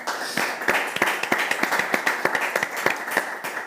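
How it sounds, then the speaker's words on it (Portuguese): A small audience claps steadily and rhythmically, a modest round of applause heard close, with no talking over it. "Uma salva de palmas para o Paulo Gonçalves."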